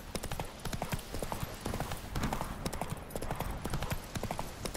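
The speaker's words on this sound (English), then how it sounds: "Whoa there, Roach." Hooves of a horse in The Witcher 3 clip-clop in a steady, close, continuous trotting rhythm, with game ambience underneath and no clear speech.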